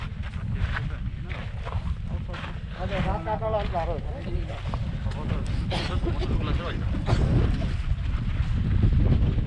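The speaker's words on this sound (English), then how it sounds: "There's a bit of a wind picking up" Wind picking up on a high mountain trail near Gorak Shep on the Everest Base Camp route, buffeting the microphone with a steady low roar throughout while a person talks over it.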